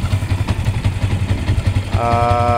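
A motorcycle engine fitted with full shifters runs close by in a steady, loud, throbbing idle, with a higher whine rising near the end.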